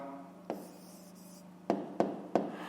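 Pen on paper writing a short answer to a maths exercise, quiet scratchy strokes with a few sharp taps at the ends of numbers, close and alone against a faint low hum.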